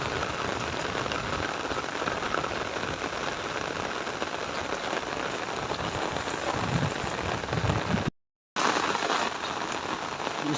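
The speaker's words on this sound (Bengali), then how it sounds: "ওই দেখো, সাগরের মতো হয়ে গেছে বৃষ্টি, পানি আর পানি, অনেক বৃষ্টি" Heavy monsoon rain pours steadily over a flooded village, a loud, dense, unbroken hiss of drops striking water and surfaces, with one brief dropout near the end.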